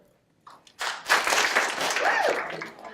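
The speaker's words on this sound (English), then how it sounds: "We will give one power clap led by Dr. Hlotchka for each of these people." At a staff forum, a group claps together in a sudden burst that swells into sustained, dense applause lasting a couple of seconds, close and loud, with a voice briefly audible within it.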